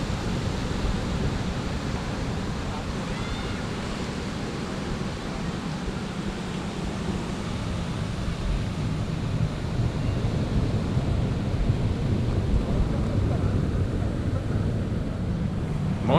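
Ocean surf rolls onto a beach in Kuta, Bali, as a continuous broadband wash with wind buffeting the microphone, fairly loud and steady and without any distinct individual wave breaks.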